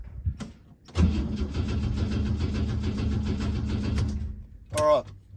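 A Holden HJ wagon's engine cranks steadily for about three seconds without catching because of a faulty neutral safety switch, with a brief mechanical whir before and a short voice-like burst after.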